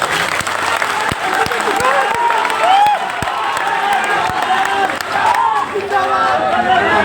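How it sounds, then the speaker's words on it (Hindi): A huge rally crowd in Muzaffarpur applauds and cheers continuously, a dense, loud wash of clapping and shouting with no break throughout. "इतनी भारी भीड़ है, इतनी भारी भीड़ आएगी"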